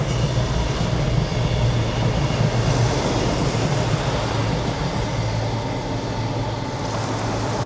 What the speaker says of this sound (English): And here comes a train.